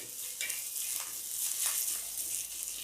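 Garlic fries in a small amount of oil as a tempering for a wild greens dish, with a quiet, even sizzle broken by soft scraping stirs in the pan.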